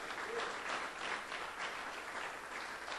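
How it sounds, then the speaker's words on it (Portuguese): Steady applause from a church congregation, a dense wash of clapping that holds at an even level throughout. "Você pode aplaudir ao Senhor"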